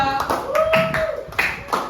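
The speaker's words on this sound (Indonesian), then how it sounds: "Berikan tepuk tangan buat kelompok 2." A few scattered hand claps from a primary school class in a maths lesson, thin and uneven taps with a voice speaking over them.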